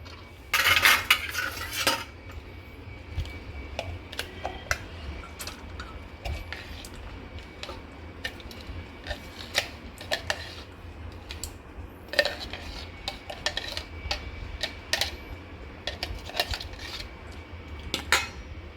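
Chopped vegetables being scooped into a bowl in a home kitchen, with scattered clinks and scrapes of a utensil against the bowl, a brief busier burst near the start, then intermittent light tapping close by.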